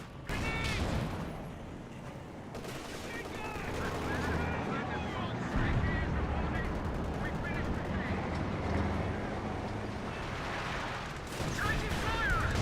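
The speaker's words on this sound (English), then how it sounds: "Stun grenades thrown." Stun grenades and gunfire in the strategy video game Company of Heroes 2 make a dense, continuous battle din of bangs, rattling shots and explosions layered over one another throughout.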